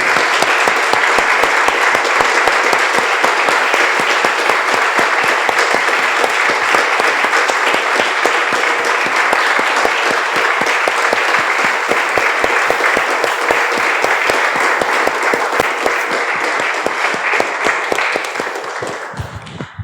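A church congregation applauds steadily through a Spanish-language worship service, a dense, loud wash of many hands clapping that holds for about twenty seconds before tapering off at the end.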